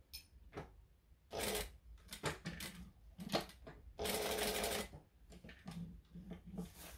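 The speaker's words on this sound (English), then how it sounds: "So I am now going to stitch all the way around here." Sewing machine stitching around the edge of fabric in bursts of rapid mechanical chatter separated by short pauses and handling noises, close and fairly loud, with no talk.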